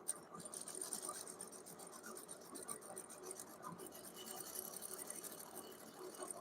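A sewing machine stitching a bodice hums and rattles steadily, quiet and close, with a fine rasping buzz running throughout.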